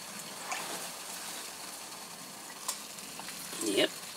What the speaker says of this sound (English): There, now it looks like it's boiling.